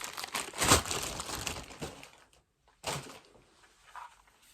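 Crinkly rustling of a plastic bag being handled close up, a longer crackling stretch, a brief pause, then another short rustle.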